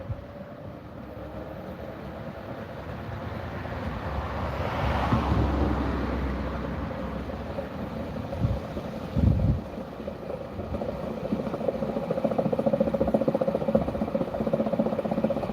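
Samsung WD80M4B53IW washer-dryer spinning at speed with its bearings running, a steady broadband mechanical whir and rumble that builds and holds throughout, with a couple of brief knocks midway and no talking.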